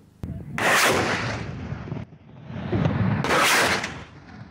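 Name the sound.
artillery batteries firing, shells falling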